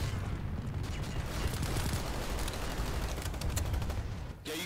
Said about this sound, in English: Small arms fire into it.